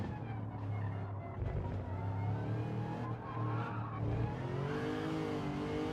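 Race car engine in Gran Turismo 7 held at full throttle, a loud steady droning roar with rising harmonic whine and some tire squeal, continuous for the whole stretch with no talk.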